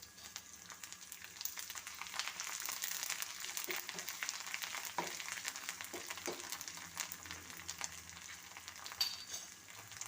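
Curry leaves dropped into hot oil with green chilli, ginger and garlic, frying with a steady, soft crackling sizzle and occasional clicks of stirring, with no talk.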